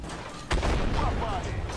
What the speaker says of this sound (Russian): арта стреляет здесь как катапульта по сильно-сильно навесной траектории